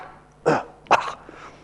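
A person vocally imitates a dog gagging and softly coughing after eating or drinking while recovering from soft tissue surgery, giving two short, close throaty bursts with a faint trailing sound.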